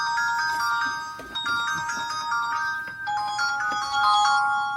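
A flip phone plays a loud electronic ringtone, a bright beeping melody of repeated tones in shifting steps, heard close and alone without talk.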